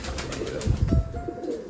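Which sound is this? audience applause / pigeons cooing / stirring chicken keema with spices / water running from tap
pigeons cooing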